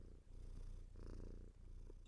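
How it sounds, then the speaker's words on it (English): A creature purrs while pressing into a hand that pets it, a low continuous rumbling purr, close and steady, with brief breaks between breaths. "The creature, usually silent, lets out a pleasured little purr of a noise as it presses into the attending hand"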